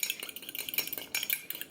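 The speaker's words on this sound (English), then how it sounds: "I've got 1 egg in this cup and I'm just beating it with this fork" A fork beats an egg in a cup, a quick run of soft clinking taps against the cup's side in a fast, uneven rhythm, faint and close.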